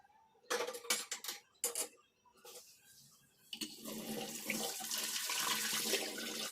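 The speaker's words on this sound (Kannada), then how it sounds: "ಸ್ವಲ್ಪ ಸಿಂಕಲ್ಲಿ ತಣ್ಣೀರು ಆನ್ ಮಾಡಿದೆ" Cold tap water is turned on into a kitchen sink after hot cooking water has been drained, a steady rushing splash that settles into continuous running flow, preceded by a few clinks of dishes nearby.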